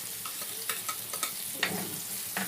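Garlic frying in a hot pan gives a steady sizzle with a few sharp clinks and scrapes of a spatula stirring it, close up and without any voices.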